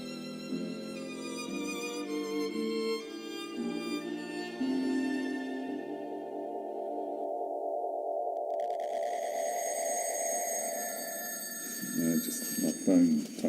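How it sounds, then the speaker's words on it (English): A mobile phone rings in the middle of a philosophy talk on radio, its repeating electronic tone rising loud and clear after a sustained musical passage and continuing for several seconds. "the irritating mobile phone calling me"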